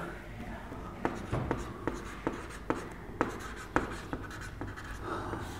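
A pen scratches across paper in short, evenly spaced strokes while chemical properties are noted down, soft and close over a low room hum.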